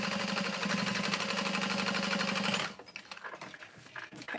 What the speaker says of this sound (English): you're top stitching through the seam allowance along the middle panel